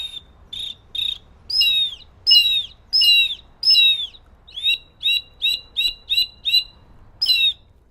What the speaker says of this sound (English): It's like a hawk. I have a hawk whistle.